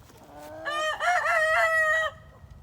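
A rooster crows once, close and loud, with a short cluck from a hen just before it, in a backyard flock of chickens.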